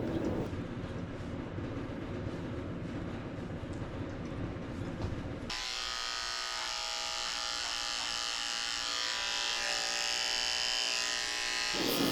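Electric dog clippers fitted with a 15 blade shaving the face of a schnauzer around the corners of its eyes, a steady close motor buzz that changes pitch and gets brighter partway through as the blade meets the hair.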